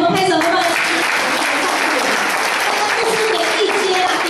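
A church congregation clapping hands together, a steady loud dense applause throughout with a voice speaking over it.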